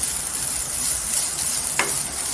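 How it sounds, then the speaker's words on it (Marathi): Raw potatoes with salt are stir-fried in oil, making a steady hiss of frying with light stirring scrapes and one brief sharper scrape near the end, no voices. "मीठ टाकल्यानंतर एक दोन सेकंड परतून घ्यायचं छान तेलात"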